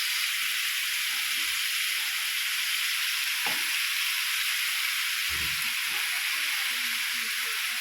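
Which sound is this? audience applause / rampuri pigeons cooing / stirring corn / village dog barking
stirring corn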